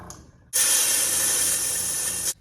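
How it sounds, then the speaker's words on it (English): Windex hisses from a spray bottle in one long, continuous, close spray burst to clean out an airbrush, then stops abruptly. "Windex works pretty good. Does the job, and it's in a spray bottle"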